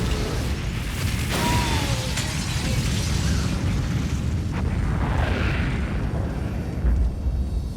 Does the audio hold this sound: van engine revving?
no